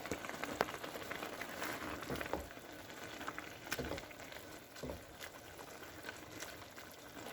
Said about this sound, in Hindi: इसमें मैं इस टाइम पर ऐड कर रही हूँ जो हमारी टोमेटो प्यूरी है, वो ऐड कर लेते हैं और चमचे से हिलाते हुए।